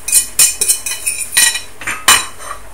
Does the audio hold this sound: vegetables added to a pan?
yes